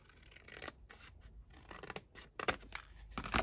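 Material being cut to size with scissors while clearing clutter, heard as close, irregular snips and scratchy rubbing in short bursts, quiet overall with no talk.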